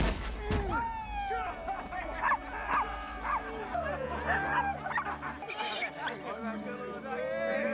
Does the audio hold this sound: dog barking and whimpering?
yes